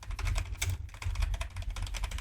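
Rapid, close keystrokes clatter on a computer keyboard as account details are typed in, a dense run of light clicks with a brief pause partway through.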